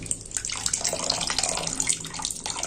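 Hot water drains and splashes out of freshly made chhana cheese, a continuous bright trickling and pouring that carries on steadily throughout with no talk.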